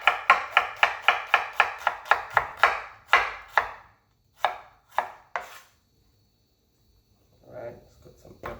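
Onions chopped on a cutting board with a knife: a quick run of about a dozen crisp, evenly spaced chops, then a few slower, scattered cuts and a pause, with a faint voice near the end.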